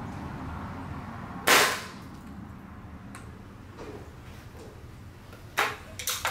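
Two sharp gunshots fired at an iPhone ring out several seconds apart, each a loud, crisp crack with a short ringing tail, separated by faint ticks and clicks against quiet outdoor background noise.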